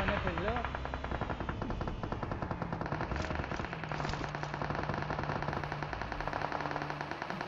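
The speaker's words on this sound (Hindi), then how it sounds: "यहाँ राइट साइड अपार्टमेंट की तरफ से ढेर सारे फायरिंग साउंड आ रहे हैं" Continuous automatic gunfire in a mobile battle royale game, rapid dense shots rattling throughout, loud and near, with a faint steady tone and game noise beneath.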